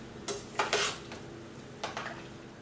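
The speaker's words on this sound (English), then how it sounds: "So I'm going to add the zucchini and the yellow squash now. Okay, give those a stir." Zucchini and yellow squash are stirred in a soup pot for a hearty chicken soup: a few quiet scrapes and clinks of a utensil against the pot, separated by short pauses, with no talking.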